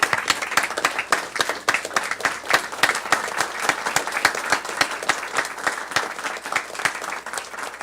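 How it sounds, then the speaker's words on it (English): Audience applauding at an Oceana honoring, steady dense clapping with sharp individual claps standing out, sustained and fairly loud throughout. "But we applaud you"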